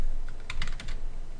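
Fingers tap a burst of keystrokes on a computer keyboard, close and clear, a quick cluster of clicks over a steady low room hum with no talking.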